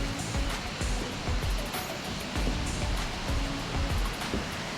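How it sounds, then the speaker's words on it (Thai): A river stream rushes past a resort, making a loud, steady roar of flowing water with slight surges, close by and with no voices over it. "ติดนี่ก็จะเป็นแม่น้ำสายน้ำผ่านลงมาสายน้ำกัด"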